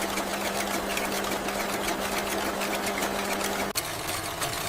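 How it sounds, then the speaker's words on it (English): Circular knitting machines run in a T-shirt factory, a loud, steady mechanical clatter and whir with a constant hum that shifts abruptly near the end. "Circular knitting machines rapidly interlace yarn, creating continuous tubes of fabric."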